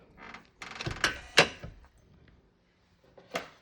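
An electronic smart lock is unlocked from a phone app. A close motor whir with a run of clicks and a sharp snap is followed by a pause and one last click.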